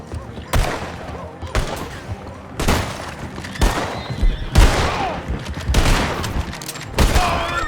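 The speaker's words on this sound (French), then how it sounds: "J'ai entendu des coups de feu." Volleys of gunfire in Red Dead Redemption 2 roar in bursts about once a second, loud, close shots and booming cracks layered over a busy background, with voices faintly underneath.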